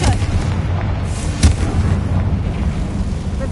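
A Confringo blasting spell goes off in Hogwarts Legacy: one sharp, booming burst about midway through, standing out over a steady low rumble of game ambience.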